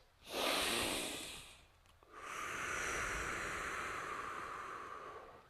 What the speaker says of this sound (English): Let's try some fast, forced inhales followed by slow, steady exhales.